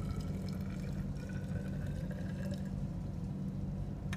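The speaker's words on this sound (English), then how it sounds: "Rinse with the DI water." Deionized water running steadily while lab flasks are rinsed at a bench, a continuous close trickle and splash with faint drips and no voices.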